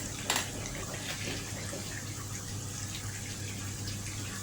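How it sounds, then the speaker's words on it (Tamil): Water poured from a glass into a cooking pot while making prawn nuggets, a soft steady trickle after a brief splash at the start, faint and continuous. "அதே கிளாஸால் தான் கோட்ரு கிளாஸ் நம்ம தண்ணி ஊற்றுறேன்"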